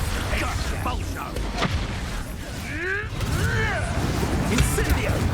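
Expulso exploding spell cast in Hogwarts Legacy, heard as dull booms and bursts under a dense wash of game noise, with a person's voice talking over the action.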